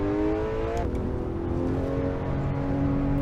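A race car engine in Assetto Corsa climbs the Pikes Peak hill climb, droning loudly and steadily, its pitch dipping on a gear change and then building again under load.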